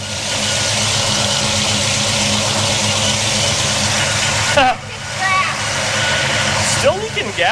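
A Chevrolet Monte Carlo engine runs fast and steady at a fast idle, its loud droning hum filling the space, while people talk briefly over it near the end.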